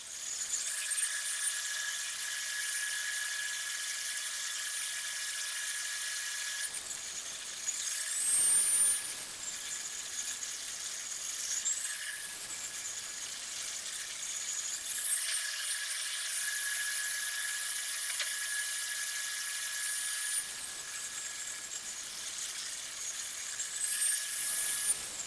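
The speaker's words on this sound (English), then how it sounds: "I started by cutting all the pieces from 20mm birch plywood." A high-pitched whining power saw cutting 20mm birch plywood pieces, a sustained shrill tone running in several long passes broken by brief pauses, loud and close with no voices.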